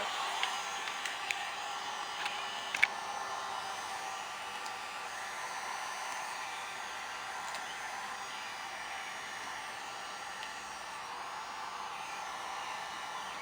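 A hot air heat tool warms vinyl overlay film on a 2013 Subaru WRX headlight, giving a steady, faint hiss of blowing air with a few small clicks and no talk.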